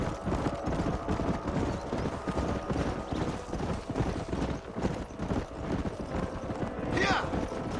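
Horse hooves clip-clop in a quick, steady trot, several horses together in the video game Red Dead Redemption, with voices talking over them.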